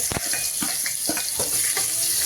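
Ground green chili and garlic paste dropped into hot oil with cumin, crackling in a bright, busy sizzle with several quick spatula scrapes and taps, close and fairly loud with no speech.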